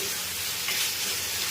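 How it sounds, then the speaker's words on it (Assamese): Onion, spices, tomato and salt fry in hot oil for a potato and pointed gourd curry, giving a steady close sizzle with faint stirring and no talk. "সেইখিনি নিমখ দি পেলাই মই অকণমান ভালদৰে ভাজি ল'ম।"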